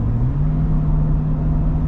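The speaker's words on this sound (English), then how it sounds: "Now I'm gonna shift it down." A 2024 Ford F-150 Raptor R with a 5.2L V8, towing an enclosed trailer, downshifts: a loud, steady engine drone steps up in pitch early on, then holds a constant hum from inside the cab.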